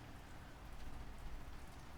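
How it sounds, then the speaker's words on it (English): Heavy rain pours down hard in a dense, steady hiss of countless drops, continuous and fairly faint, with no other sounds over it. "it's raining super hard right now"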